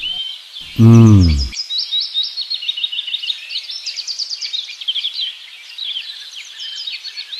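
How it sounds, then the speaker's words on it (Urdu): Many sparrows chirp in a tree in a rapid, continuous high-pitched chatter that carries on throughout, bright and close. A short low thump or bump sounds near the start. "وہ درخت سے چڑیاں آواز کرتے ہیں، دیکھیے بہت چڑیاں ہیں۔"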